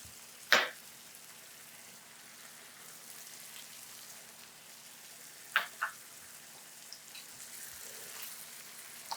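Chicken livers fry with onions in a pan, giving a soft, steady sizzle under a low hum, broken by a few brief sharper clinks or pops.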